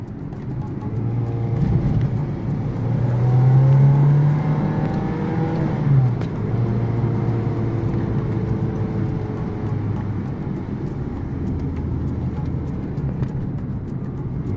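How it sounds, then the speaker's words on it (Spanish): Renault Clio Williams engine running and revving, a loud, steady mechanical drone with a pitch that rises and falls early on, then settles into a constant rumble, heard close and alone. "lo que más engancha es el precioso sonido del motor"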